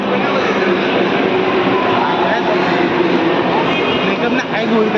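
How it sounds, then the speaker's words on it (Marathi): Steady, loud rumble of a Borivali-bound train at a station, a continuous roar with faint rattling underneath, and people talking over it. "दहा अकराची ट्रेन लागली बोरिवली"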